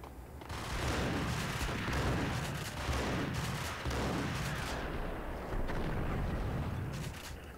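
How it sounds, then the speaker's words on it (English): Video game gunfight in Max Payne with a grenade blast: dense rolling booms and heavy gunfire rumble in repeating waves, loud and continuous, with no talk. "Come on, throw the fucking grenade."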